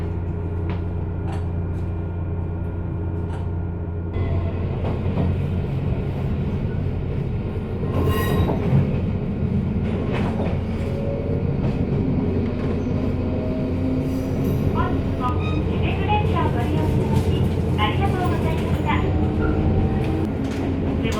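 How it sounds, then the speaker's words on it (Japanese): A train on the Tateyama Line rolls across an iron railway bridge in the Japanese Alps, with a steady loud rumble and wheel clatter and brief metallic squeals and clicks, as a voice speaks over it. "ただいま列車立山線茅垣鉄橋上を通過をいたしております。"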